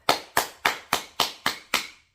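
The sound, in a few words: hands clapping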